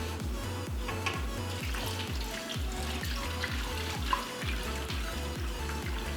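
Hot water poured into a bain-marie pan around a pumpkin spice cheesecake, a steady loud splashing pour that continues without a break, with no talking.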